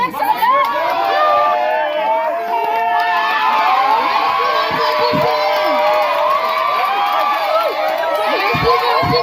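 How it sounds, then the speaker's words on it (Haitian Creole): A lively crowd at a birthday celebration cheers, whoops and claps continuously and loudly, with children shouting and a voice calling out over the steady din. "Applaudissez pour nous."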